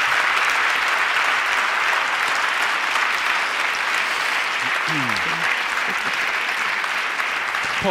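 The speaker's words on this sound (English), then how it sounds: "So a hand of applause, please, first." A large audience applauding at a literary talk featuring Toni Morrison and Junot Díaz, sustained and even clapping that fills the room throughout, with brief voices beneath it.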